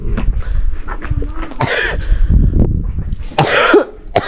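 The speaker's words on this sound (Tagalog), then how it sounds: "Naubo na sa lamig." Heavy coughing in a cold setting, several harsh bursts spread across the moment, close and loud with throaty rasps and brief gaps between fits.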